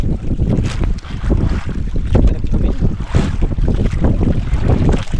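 Strong wind buffets the microphone on a small boat at sea, with loud, continuous rumbling gusts and waves crashing and splashing close by, and no talk.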